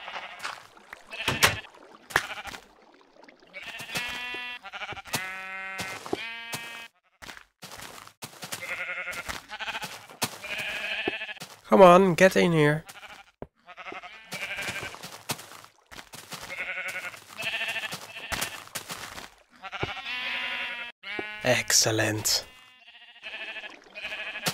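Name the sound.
sheep bleating in Minecraft video game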